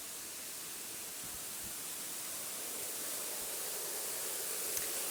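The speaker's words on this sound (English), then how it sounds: "You can hear probably the noise of the water." Broad, steady rushing of fountain water at Villa d'Este gardens, a continuous hiss heard from some distance, even and unbroken with no voices.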